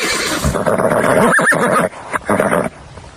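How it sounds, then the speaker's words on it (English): A loud, close horse neigh rings out in a long whinnying call, then breaks into a few shorter snorting bursts before fading. "You finally found the horse."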